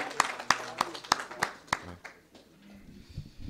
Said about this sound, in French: on les applaudit pour leur arrivée.